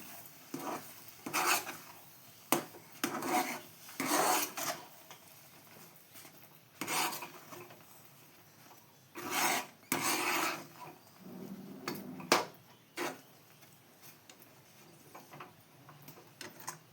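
Semolina sheera with sugar, cashews and almonds is stirred in a pan: bursts of scraping and rubbing of a spoon against metal, irregular and close, with quiet pauses between and no talk.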